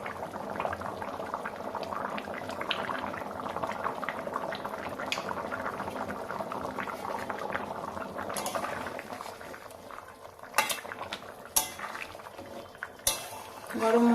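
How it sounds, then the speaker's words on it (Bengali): An egg and potato curry bubbles steadily in a pan, a soft continuous simmer of popping liquid, followed near the end by a few sharp clinks of a utensil against the pan. "তরকারিটা ভালোভাবে ফুটে গেছে, এখন এর মধ্যে আমরা গরম মশলা দিয়ে দেবো।"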